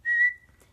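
A single short, clear whistled note signalling yes in a whistling language, steady in pitch and close, fading quickly into near silence.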